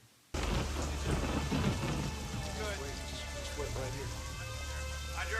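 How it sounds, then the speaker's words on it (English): Steady heavy rain with rumbling thunder during a storm scene in the 1989 horror film Shocker, starting abruptly and continuing loud and unbroken, with faint voices underneath. "Of course, it's raining at the most dramatic moment."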